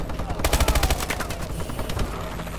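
The ASM1 gun fires in a video game as a loud, close stream of rapid automatic shots, thickest early on and then tapering into scattered bursts, with game voices faintly underneath.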